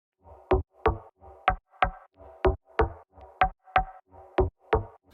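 A synthesizer noise oscillator patch, a glass lid noise, plays alone in a steady rhythmic pattern: about a dozen short, sharp noise hits, each preceded by a softer hissy swell, moderately loud and close, with no voices.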